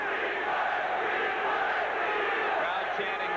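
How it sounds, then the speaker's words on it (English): A dense, roaring stadium crowd chanting continuously at a 1987 NFL football game between the Minnesota Vikings and Los Angeles Rams, a broad wall of massed voices with no pauses. "Crowd chanting"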